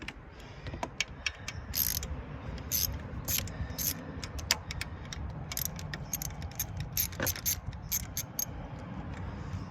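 A hand ratchet works the EGR valve bolts on a Saturn SL2 engine, giving bursts of sharp, close clicks and metallic creaks in irregular spurts over a low mechanical background, with no talking.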